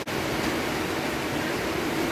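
Rain falls steadily on a countryside greenhouse, a dense, even hiss that holds constant throughout with no talk.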